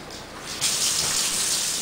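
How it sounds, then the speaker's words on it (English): Water poured into a porcelain-enameled cast iron Dutch oven, starting as a light trickle and then swelling into a loud, steady rushing splash that continues to the end, with no voices. "I'm going to add some water to this"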